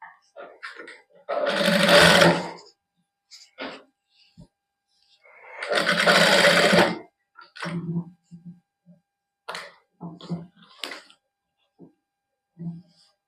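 A sewing machine stitches a suit in two loud bursts of fast needle chatter, about a second each, separated by pauses with softer handling sounds and brief speech.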